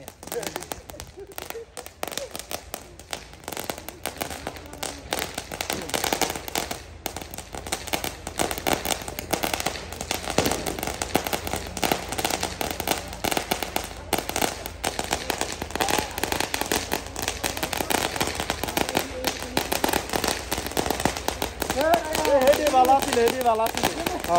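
Rapid strings of firecrackers crackle and pop almost nonstop at an Eid celebration in Malaysia while people talk and call out amid the bursts.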